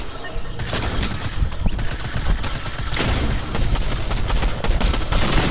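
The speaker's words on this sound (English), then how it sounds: "Use a shotgun." Rapid gunfire in a video game, a dense series of loud close bursts and booms packed together throughout, with an occasional voice underneath.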